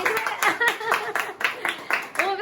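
An audience claps for a third-prize winner at a Christmas-eve gathering: short bursts of hand claps that come and go beneath a loud voice talking over them.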